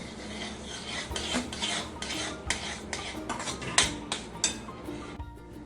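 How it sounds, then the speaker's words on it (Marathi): A spoon scrapes repeatedly around a pan, stirring roasted semolina with cashews for mango sheera, giving a string of close, rhythmic metallic scrapes and clinks at a moderate level with no talk. "इथं चमच्याने असं हलवत राहायचं एकसारखं नाही तर मुगू टोळ्या होतात"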